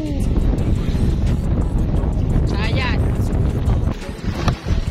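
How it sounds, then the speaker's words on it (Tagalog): Strong wind buffets the microphone outdoors with continuous, loud, rushing noise while a person talks over it. "Lalo pag ganitong kalakas ang hangin."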